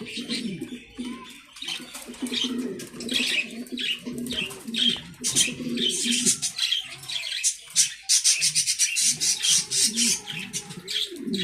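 A pair of Mundian pigeons at a farm coo and squawk in overlapping bursts, with wing flaps and chirps, loud and close throughout.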